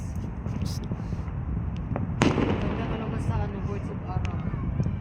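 Distant fireworks pop and boom with one sharper crack, under ongoing chatter and wind rumble.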